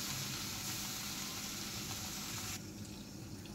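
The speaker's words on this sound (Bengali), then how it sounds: "তেলটা যখন গরম হয়ে গেল তখন ওই ম্যারিনেট করা মাছটা একটা একটা করে দিয়ে আমি ভেজে নিচ্ছি।" Marinated fish frying in hot oil in a wok makes a loud, continuous hissing sizzle that drops to a quieter bubbling near the end. No one speaks.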